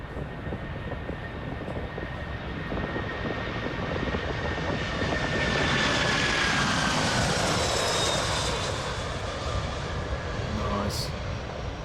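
TUI 787 jet engines at full takeoff power in the Prepar3D flight simulator, a loud, steady roar with a high whine that swells midway and then eases slightly.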